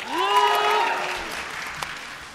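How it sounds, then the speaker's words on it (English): An audience at an artists and entrepreneurs conference event claps in a short burst of applause that swells and fades, with a sustained tone and faint crowd noise underneath. "You got applause."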